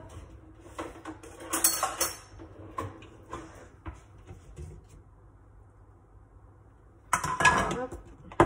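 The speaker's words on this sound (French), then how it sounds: "Couvrir le fond du plat d'une couche fine de sauce bolognaise. Donc, je vais prendre une louche." Ladle scraping and clinking in a lasagne dish while spreading a thin layer of bolognese sauce over the base, two short bursts of metal-on-ceramic clatter separated by quieter handling noise, a voice talking faintly in between.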